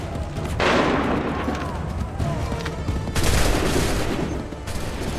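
Musket volleys boom out in the Assassin's Creed III video game, two loud massed bursts of gunfire with crackling echoes in between.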